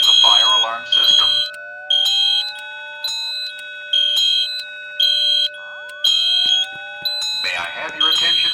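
A building fire alarm system under maintenance testing sounds loud, repeated pulsing electronic tones in a steady on-off rhythm, with a recorded voice announcement at the start and end.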